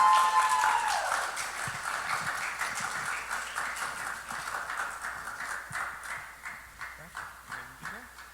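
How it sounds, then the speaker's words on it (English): Audience applause for a young speaker at a church youth night, a moderate, steady patter of many hands clapping that slowly thins out, with a voice faintly underneath. "please give a round of applause for Miss Gabriella"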